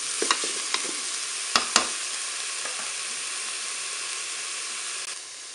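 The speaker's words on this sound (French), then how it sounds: "Je vais ajouter également le filet mignon fumé." Smoked pork tenderloin browning in a Cookeo multicooker, a steady hiss of sizzling with a few sharp clicks and scrapes from stirring early on, fading slightly near the end.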